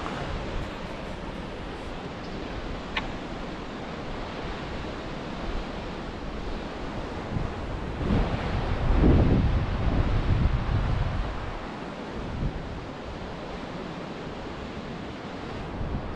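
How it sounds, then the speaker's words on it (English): Rushing water from waterfalls pouring into the sea beside a coastal cliff, a steady broadband roar with wind buffeting the microphone, swelling louder for a few seconds near the middle before settling back. "Just that sound of those waterfalls coming around"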